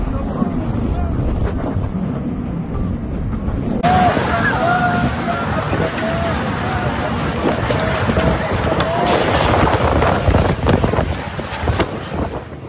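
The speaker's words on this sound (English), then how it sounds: "A fierce storm struck Mecca, Saudi Arabia, bringing with it strong winds that knocked people off their feet and caused chaos" Strong storm winds buffet the microphone in Mecca, Saudi Arabia, a loud continuous roar with surging gusts that swell and intensify partway through, steady and close throughout.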